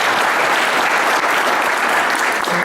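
An audience at a Rotary Club speech contest claps for a third judge, a full and even round of applause holding steady with no one talking.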